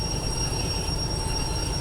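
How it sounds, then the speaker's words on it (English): A locomotive braking in the Derail Valley train game gives a steady, loud rail rumble with high sustained squealing tones throughout, no voices. "Let's get the train brake on now."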